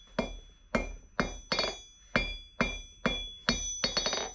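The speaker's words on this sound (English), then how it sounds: "now I've got something hot in the forge and I'm going to test out this anvil" A hammer strikes hot metal on a VEVOR London pattern anvil, 66 lb (30 kg), at a forge. Nine sharp, ringing blows land in a steady rhythm, close and clear, with the anvil's bright ring hanging between strikes and a quick final flurry.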